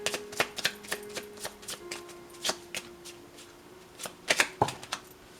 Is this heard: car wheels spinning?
no